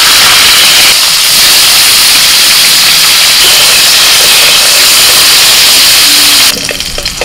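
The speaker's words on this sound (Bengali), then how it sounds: "এবার কপিটা একটু ভেজে নেব" Parboiled cauliflower fries in mustard oil in a kadai with a loud, steady, close-up sizzle that fills the whole stretch and eases slightly just before the end. No one talks.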